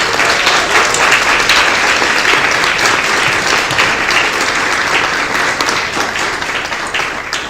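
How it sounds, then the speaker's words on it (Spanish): An audience in a church gives loud, steady applause that fills the space, dense and sustained throughout, with no one speaking over it. "Un aplauso."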